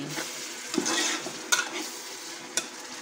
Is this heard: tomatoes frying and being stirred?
yes